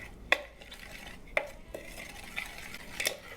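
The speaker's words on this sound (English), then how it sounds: "And then once we add the Swerve in the butter, we are going to go ahead and mix the 2." Utensil stirring butter and Swerve sweetener together in a bowl, a few sharp clinks against the bowl over soft scraping, close and fairly quiet, no voices.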